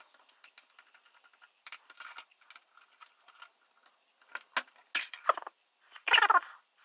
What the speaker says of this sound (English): I'm gonna take the knobs off.